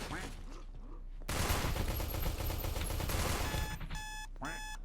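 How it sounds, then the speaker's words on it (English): Rapid bursts of gunfire in Space Station 14 crack loudly for a couple of seconds, followed by sharp electronic beeps and softer background game noise. "I really like the Joy's burst sound"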